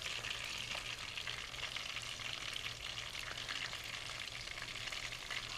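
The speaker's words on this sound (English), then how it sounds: "Mama Africa, it looks like the fish is turning brown a little bit" Fish frying in a pan of hot oil, a dense, continuous crackling sizzle that stays loud and even throughout, close up with no talking.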